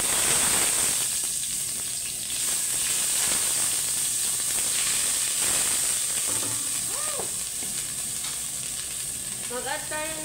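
Ginger and cooked chicken fry in hot oil with a loud, continuous close sizzle and the scrape of stirring, a few faint squeaky sounds near the end.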